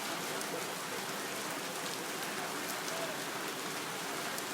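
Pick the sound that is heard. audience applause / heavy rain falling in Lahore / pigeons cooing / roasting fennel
heavy rain falling in Lahore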